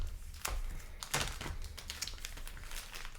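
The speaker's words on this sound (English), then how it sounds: "Gonna give these a good shuffle in here." Magic: The Gathering booster packs from Modern Horizons 3 being shuffled by hand, a close series of crinkly foil rustles and soft taps in quick irregular bursts.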